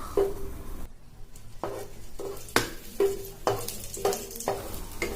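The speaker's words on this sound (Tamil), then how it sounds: "அதே பேன்ல 10 திராட்சை எடுத்து வறுத்து எடுத்துக்கலாம்" Ten raisins roast in a pan, with a steady close sizzle broken by repeated stirring scrapes and light clinks of a utensil against metal, no voices.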